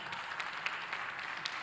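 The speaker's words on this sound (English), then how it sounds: "Please, can we give him a round of applause?" Audience at a legal summit applauding, a faint, even patter of many hands clapping that continues steadily through the short stretch.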